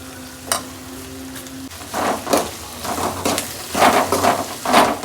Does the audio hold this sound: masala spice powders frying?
yes